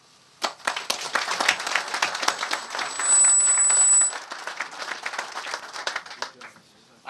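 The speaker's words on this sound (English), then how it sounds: "I clap so hard the microphones want to quit on us" An audience at a veterans event breaks into sharp, scattered claps that quickly build into loud, sustained applause, then taper to a few lingering claps.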